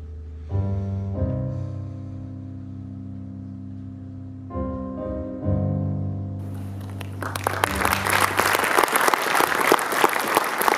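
An award ceremony for a citizen media prize starts with sustained tonal music. Loud, dense applause from an audience then rises and continues to the end.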